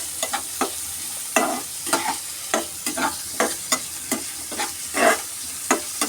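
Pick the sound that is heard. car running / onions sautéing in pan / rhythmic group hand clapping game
onions sautéing in pan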